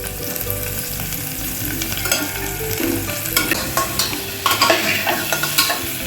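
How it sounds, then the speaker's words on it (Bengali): Beans and potatoes frying together in a pan with turmeric, giving a steady sizzle with scraping stir strokes that grow louder and more frequent toward the end; no voices. "দুটোকে একসাথে ভেজে নেওয়া হচ্ছে। একটু লালচে করে ভাজবো"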